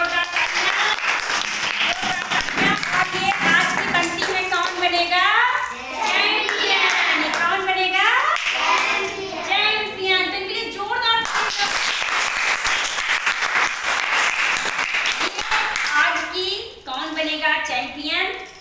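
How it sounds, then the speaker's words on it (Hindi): Enthusiastic applause for children on a quiz-show stage, a room full of clapping running under a presenter's loud, continuous talk, with voices layered across the whole stretch. "इनके लिए जोरदार तालियां"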